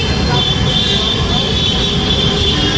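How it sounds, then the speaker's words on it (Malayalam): An elevated metro train in Agra passes overhead at night, producing a loud, continuous rumble with a sustained high whine over the low roar. "മെട്രോ ആണ് മുകളിലേക്ക് പോകുന്നത്, മുകളിൽ കൂടി പോകുന്ന അത്."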